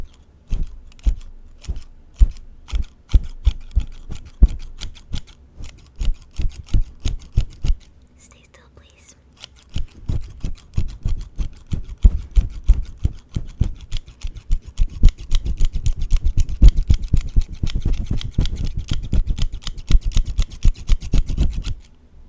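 Scissors snip and trim hair and beard in a barbershop role-play, crisp rapid cuts in steady bursts close to the ear, pausing briefly midway, then denser with some soft rubbing underneath and quiet whispering.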